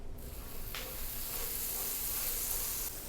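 Butter sizzles and browns on a hot Beautiful electric griddle from Drew Barrymore's line, a close, steady frying hiss that swells brighter partway through and holds.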